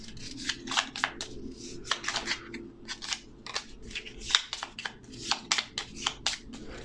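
Ramses II board game cards are shuffled by hand in small stacks, giving repeated close, crisp riffling and rubbing bursts in an irregular rhythm, with no talking.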